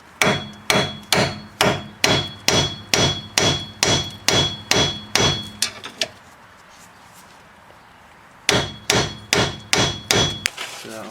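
A hammer strikes metal around the front strut joint of a 2000 Chrysler 300M, a close, loud run of about a dozen evenly spaced ringing blows, a pause of a couple of seconds, then another quick burst of hits.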